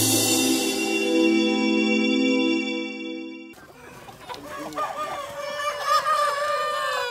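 A rooster crows loudly in one long drawn-out call, then several chickens cluck and squawk in a busy, close-up jumble.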